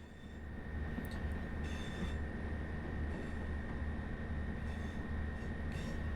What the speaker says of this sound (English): The satisfying rumble from the Cummins.